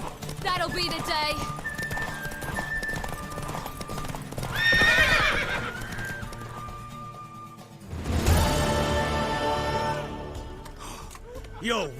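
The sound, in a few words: horse galloping and neighing in video game Witcher 3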